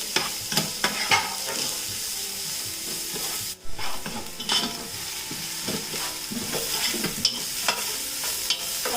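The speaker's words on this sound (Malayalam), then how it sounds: "ഇനി നമുക്കിതിലേക്ക് ഈ ചോപ്പ് ചെയ്ത് വെച്ചിരിക്കുന്ന സവാള ഇട്ട് വഴറ്റി കൊടുക്കാം" Chopped onions sautéing in oil in a large pan, a continuous bright sizzle overlaid with frequent knocking and scraping stirs, with one brief dip midway.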